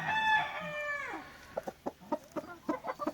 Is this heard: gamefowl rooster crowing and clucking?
yes